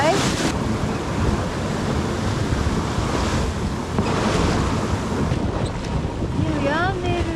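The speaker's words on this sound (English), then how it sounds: "It's quite breezy. It is, yeah. 20-25 knots." A yacht sails off the Isle of Skye in a 20-25 knot breeze, with continuous loud wind buffeting the microphone over rushing waves and a few high chirps near the end.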